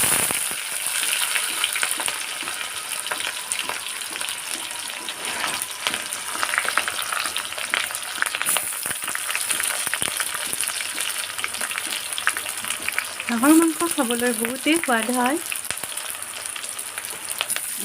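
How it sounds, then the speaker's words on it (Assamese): Onions and green chilies frying in hot oil for a duck meat dish, a continuous sizzle with stirring scrapes, and a voice speaking briefly near the end. "আৰু পিঁয়াজ আৰু জলকীয়াও দি ভাজি লওঁ।"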